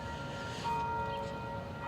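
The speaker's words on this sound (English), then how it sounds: "There's the church bells echo in the background." Distant church bells ring faintly from afar beside a pioneer cemetery in Downers Grove, Illinois, their sustained tones hanging over low outdoor background noise.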